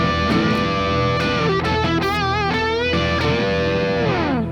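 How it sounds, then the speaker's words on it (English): A distorted electric guitar plays a double stop bend, with crying, wavering bent notes over sustained chords, loud and continuous, with no voices. "I'm talking about double stop bend."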